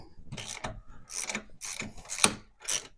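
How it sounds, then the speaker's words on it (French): An impact wrench loosens a nut on a Peugeot 206 suspension arm, firing in five or six short bursts with gaps between them, each one a sharp rattling clatter. "À la clé à choc."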